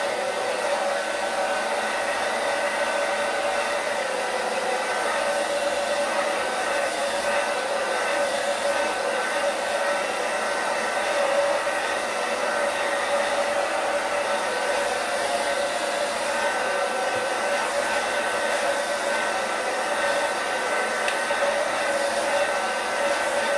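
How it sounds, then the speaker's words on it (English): A blow dryer set to warm on its low speed dries a beard, producing an unbroken, even whoosh and whine up close that holds at the same level throughout, with no speech. "now I have a blow dryer. Okay, I have it set on warm. Okay, and then I'm going to put it on low."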